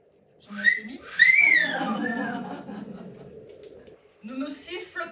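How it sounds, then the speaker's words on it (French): A person whistles a few rising and falling notes, including a wolf-whistle glide, close up with some voice sounds mixed in. "Ne me siffle pas."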